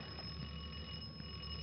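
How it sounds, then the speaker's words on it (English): A faint electric bell rings in one steady, unbroken tone, heard alone with no voices. "That's the doorbell. Someone's at the door."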